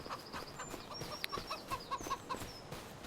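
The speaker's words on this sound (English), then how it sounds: "Chickens are doing fine," Chickens on a Farming Simulator 25 farm cluck in a quick run of soft, faint calls, with a few sharper chirps scattered among them.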